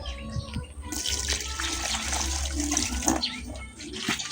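Water poured from a container into a vessel to steep crushed tuba-tuba leaves as a remedy for piglets, a continuous close splashing and gurgling throughout.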